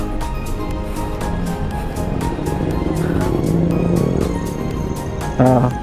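A motorcycle used for deliveries inside a subdivision idles and revs steadily, its engine a continuous close rumble with a brief louder burst near the end.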